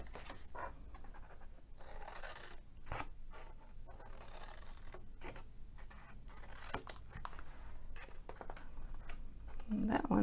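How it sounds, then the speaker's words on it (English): Scissors snipping through paper for a handmade treat box, a run of short crisp cuts with brief pauses between them, close and fairly quiet, with no one speaking. "I'll cut these a little bit more."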